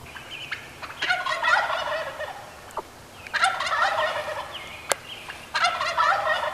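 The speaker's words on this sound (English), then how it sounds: "As daylight broke, the gobbling only intensified." Wild turkeys gobble at daybreak during a spring hunt, with three rattling gobble bursts carrying from a moderate distance over quiet morning air and a few faint bird calls.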